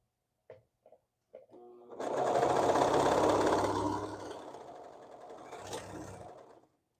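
A sewing machine stitches fabric in a steady, fast mechanical run lasting several seconds, close and fairly loud, with a few short clicks before it starts and the motor slowing toward the end.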